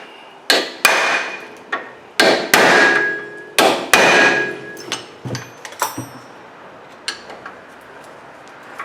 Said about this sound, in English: when you hit them like that, usually it breaks any kind of rust loose that are holding those in there